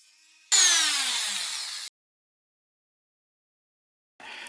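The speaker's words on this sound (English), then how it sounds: "Got my cutting disc on my Dremel." A Dremel rotary tool fitted with a cutting disc cuts into a glued foregrip, giving a loud, close whine that runs about a second and a half and then stops abruptly, followed by silence and a brief restart at the end.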